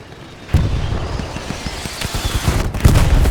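Heavy gunfire and artillery booms in the WWII shooter Hell Let Loose, a dense fusillade of rapid shots and low thuds with a loud burst at the start and another near the end.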